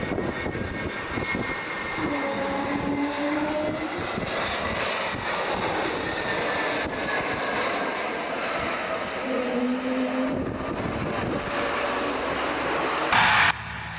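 A small propeller training aircraft flown by student pilots drones steadily and fairly close for the whole stretch, its engine tone rising and dipping slightly, with no talk over it.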